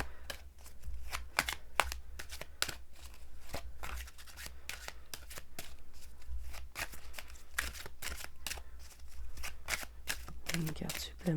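Tarot cards being shuffled and drawn in a series of crisp, rapid riffling and snapping bursts, close and fairly loud, with brief pauses between runs.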